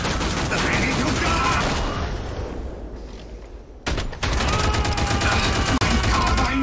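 Carbine gunfire in a video game rattles out in dense, continuous bursts, loud and close, easing briefly around the middle before the shooting surges back just as hard.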